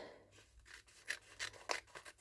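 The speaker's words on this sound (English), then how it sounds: "I'm just going to come in with my scissors" Scissors snip the top strip off a sealed paper envelope, giving a few quiet, close crisp cuts and paper rustles over soft room noise.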